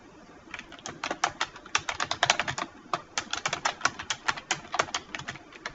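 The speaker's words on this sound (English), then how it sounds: "we are typing Microsoft Excel" Rapid, uneven keystrokes clatter on a computer keyboard, bursts of typing with short pauses, close and fairly quiet.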